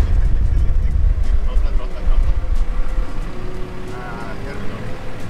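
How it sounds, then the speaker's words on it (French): A Valtra tractor's diesel engine labours steadily as it pushes a big pile of snow, a low continuous rumble close by, with someone talking over it throughout. "Bastien il est remonté dans ce tracteur là. Et il y a un gros tas de neige qui a été fait, il va essayer de le pousser avec le tracteur."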